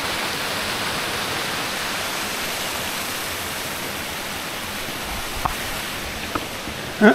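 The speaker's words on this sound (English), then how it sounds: "You saw that little, little waterfall." A small waterfall beside Canonto Lake in Ontario, heard up close as a steady broadband rush of falling water, with a few faint knocks near the end.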